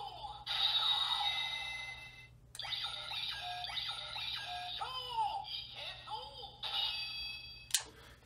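Electronic chimes, tones and voice-like sound effects from a Ryusoulger Pterardon Mecha toy, a few bursts separated by short pauses, loud and close with no talking over them.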